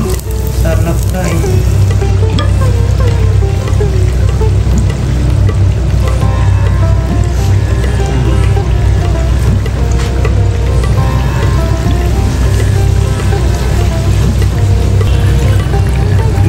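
Sel roti, a Nepali rice dough ring, fries in a pan of hot oil, giving a loud, continuous close sizzle and bubbling with faint stirring throughout and no talk.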